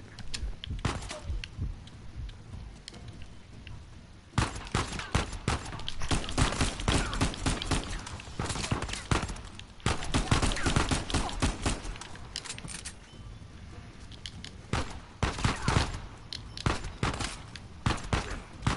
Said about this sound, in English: Who's shooting and where?